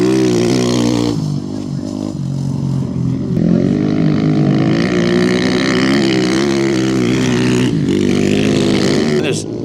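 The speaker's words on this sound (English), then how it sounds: "That looks like the first support truck I've seen come through right there." A Dakar rally support truck driving through the desert, its engine giving a loud, droning roar with shifting pitch that swells and stays close for several seconds, with voices faintly underneath.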